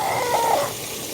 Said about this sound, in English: Oh, there's the chickens right there.